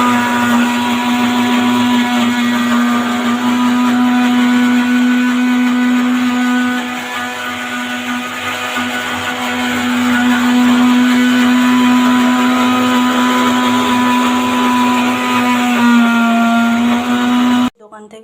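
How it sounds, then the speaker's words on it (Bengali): A mixer grinder whirs loudly and steadily while grinding spices, a continuous high motor whine lasting about seventeen seconds before cutting off abruptly at the end. "চলুন তাহলে এদিকে মশলাগুলো বেটে নিই"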